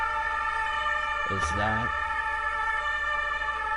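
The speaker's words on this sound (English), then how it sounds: "sirens. And not just any sirens." A siren in the video game Across the Moon rises and falls briefly over a steady electronic music drone, with a short spoken phrase over it.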